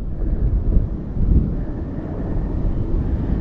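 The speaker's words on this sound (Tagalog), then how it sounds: "sobrang lakas na po lagi ng hangin dito sa dagat" Strong northeast monsoon wind blows over the sea, a continuous heavy low roar buffeting the microphone with gusty swells, loud and close throughout.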